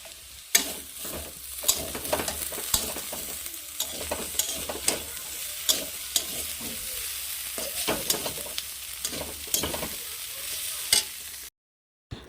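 Potatoes fry in a pan on the stove while a utensil stirs them, sharp scraping clacks landing every second or so over a steady close sizzle that runs for about eleven seconds before cutting out.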